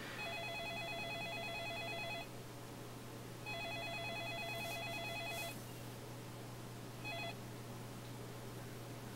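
A telephone ringing in the PlayStation 3 game Yakuza 4: repeated electronic trilling rings, two long bursts and a short one, over a steady background hum.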